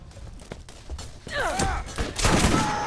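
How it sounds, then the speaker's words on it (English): Sledge's shotgun firing in Borderlands, heavy booming blasts layered with thuds and rising in-game effects, loud and close, with a burst of louder impacts toward the end. "And that is Sledge's shotgun, God bless it."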